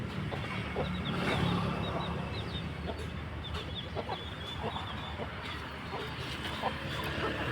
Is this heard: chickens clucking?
yes